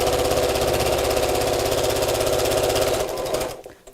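A sewing machine runs steadily for about three seconds, stitching straight across the seam of a small fabric box bag, with a fast, even mechanical chatter that stops abruptly near the end.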